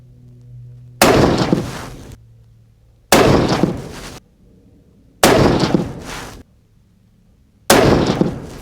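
Budget rifle fired four times at steady intervals, each shot a sharp, loud crack followed by a short decaying echo, separated by near-silent gaps with no talking.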